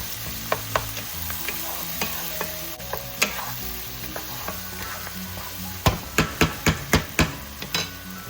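Onions and tomatoes sauté in a pan for a Filipino radish dish, a steady close sizzle punctuated by sharp utensil knocks against the pan that speed into a rapid series of clanks near the end.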